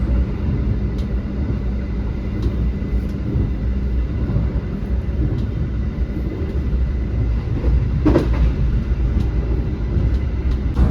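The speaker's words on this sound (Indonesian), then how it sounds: "Ini kereta kita udah jalan." Inside an executive-class passenger carriage on the Surabaya–Ketapang run, the moving train gives off a steady low rumble with faint rattles and a brief clunk partway through.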